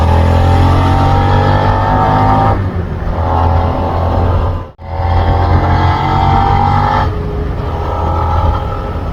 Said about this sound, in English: Like any V2, it has a nice and recognizable sound when reaching higher RPMs.